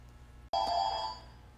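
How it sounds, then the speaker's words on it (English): A telephone bell rings once after a sharp click, a single bright trill lasting about half a second that fades into faint background noise in a workshop. "Yes, phone. I know you're ringing."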